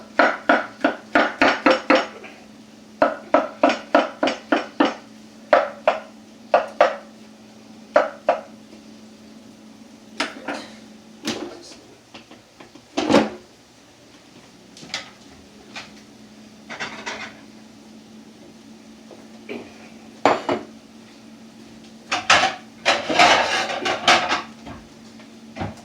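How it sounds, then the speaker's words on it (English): A kitchen knife chopping mushrooms on a board, a run of quick, sharp close taps in bursts with short pauses between, alone without talk. "I'm going to chop up these mushrooms real quick"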